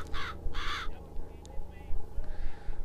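Crows cawing in the video game Bioshock Infinite, several harsh caws in quick bursts near the start, then scattered fainter calls over a background hum, with someone talking.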